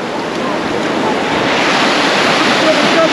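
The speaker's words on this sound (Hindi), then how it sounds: "लहर बहुत तेज है, गिर जाओगी" Strong ocean waves breaking on a beach, a loud, broad roar of surf mixed with wind buffeting the microphone, building steadily over a few seconds.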